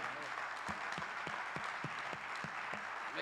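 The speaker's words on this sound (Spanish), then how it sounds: "Denle una frente de palmas" A church congregation claps in rhythmic unison, steady beats about every half second, moderately distant under a reverberant hall wash with a voice faintly present.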